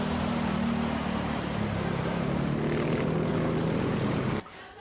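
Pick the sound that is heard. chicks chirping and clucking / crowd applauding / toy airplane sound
toy airplane sound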